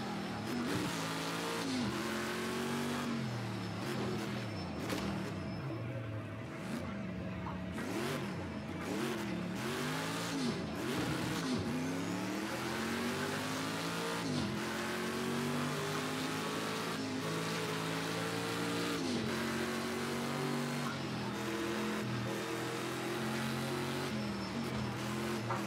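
Sauber C9 LM race car in Project CARS 2, its engine roaring loud and close for the whole stretch, revving up and down through repeated gear changes with occasional tire squeal, no voices.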